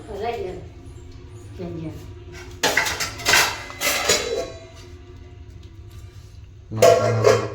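Chillies stirred in a metal cooking pot, giving bursts of clattering scrapes and clinks against the pot between stretches of quieter kitchen noise, with people talking nearby.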